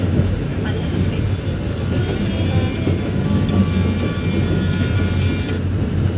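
The Brahmaputra Express passes another train at Gafargaon railway station, heard from on board as a loud, steady rumble and rattle of rolling carriages, with voices talking over it.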